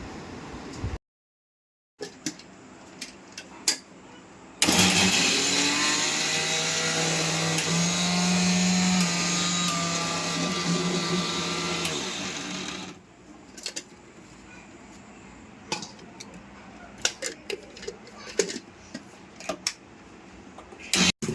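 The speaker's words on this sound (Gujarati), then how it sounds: "તમે જોઈ શકો છો આવી રીતે મિક્સરમાં કાઢી નાખે" A kitchen mixer grinder whirs loud and steady for about eight seconds as it grinds dough balls of rice and ghee into laddoo crumbs, framed by quieter clicks and handling noises before and after.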